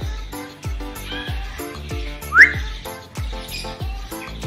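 Caged songbirds, a canary and a prinia, sing together in a dense, continuous mix of bright chirps, trills and sharp whistled notes. One louder squeaky call stands out near the middle, and no one speaks.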